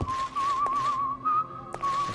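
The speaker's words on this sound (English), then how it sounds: "Oh, why am I hearing whistling?" Whistling in Minecraft, a clear single-toned whistle wavering slightly in pitch, close and sustained with a couple of short breaks and sharp clicks.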